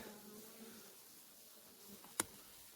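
A soft, steady hum of many honeybees buzzing inside an overwintering hive drifts at low level, with a single brief sharp tick near the end.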